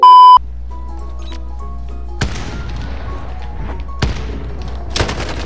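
Rapid gunfire from an enemy player in a video game, several sharp broadband bursts at irregular intervals over a steady low game hum, preceded by a short beep.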